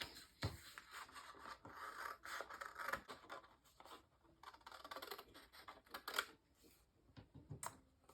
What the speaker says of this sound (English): Now I'm going to cut out my template.